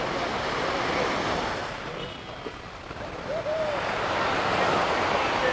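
Warm surf rolling onto Jomtien Beach in Thailand, a steady broad wash of waves with wind rushing across the microphone, dipping briefly in the middle before swelling back to full strength.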